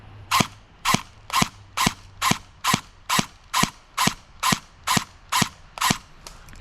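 An airsoft submachine gun fires full auto at about 5.6 rounds per second, giving a loud, even string of sharp mechanical snaps, roughly a dozen in a row, heard close with no talking.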